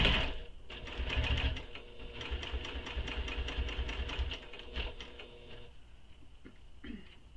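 A sewing machine top stitching a tote bag runs in steady fast bursts for several seconds, then slows and stops, with a few short clicks at the end, close and clear with no talk.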